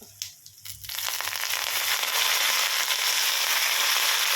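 Fenugreek seeds, mustard seeds and curry leaves crackle and sizzle sharply as they hit hot oil, a sudden burst after a second of quiet that settles into a steady, loud spitting hiss.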